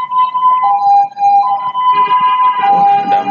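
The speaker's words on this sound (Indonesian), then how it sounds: "ada ambulan" Ambulance siren wailing with a steady tonal sweep, loud and close, sounding alone with no talk.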